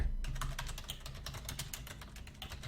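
Rapid, steady typing on a computer keyboard, a dense run of close, crisp key clicks with no talking.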